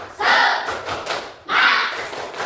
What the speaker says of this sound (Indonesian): kita bareng-bareng tepuk semangat